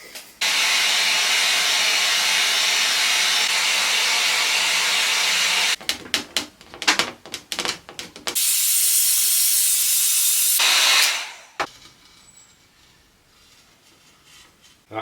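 A heat gun blows onto a glued table leg, a loud steady roaring hiss for several seconds, then broken rustling handling noise, another sustained blast, and a quieter tail.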